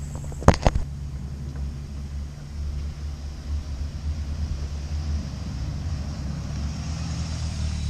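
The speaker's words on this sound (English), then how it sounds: "Let's take it out for a test drive, see how she handles." A lowered Scion xB on CX Racing coilovers is out on a test drive, with low engine drone and road rumble heard from inside the cabin and a sharp click near the start.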